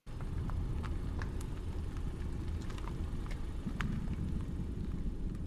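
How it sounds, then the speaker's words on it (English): Tires crunch slowly over gravel in a steady low rumble, with scattered small pebble clicks throughout. "I put in this car driving slow. So you can kind of hear that gravel and the wheel slowly."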